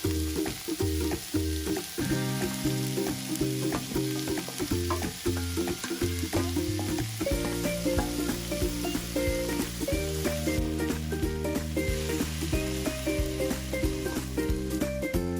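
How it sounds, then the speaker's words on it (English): Onions, chilies and tomatoes fry in two tablespoons of oil, a steady close sizzle with crackling pops and stirring scrapes running continuously, no voices. "Add 2 tablespoons of oil. Add onions. Add chilies and tomatoes."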